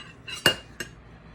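Confectioner sugar mixed in a bowl with a utensil: two quick, faint clinks of metal against the bowl over a quiet background.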